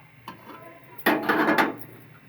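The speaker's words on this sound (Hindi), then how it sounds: "तो मैं इसमें डालूँगी प्याज।" Onions tipped into a hot pressure cooker set off a sudden loud burst of sizzling that hisses strongly for about half a second, then fades, after a light clink beforehand.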